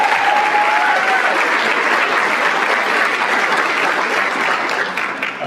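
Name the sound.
audience applause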